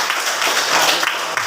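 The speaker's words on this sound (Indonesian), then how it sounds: "Tepuk tangan untuk Firmon" Students in a classroom clap for a classmate named Firmon, a steady, dense patter of hands filling the room at moderate loudness with no break.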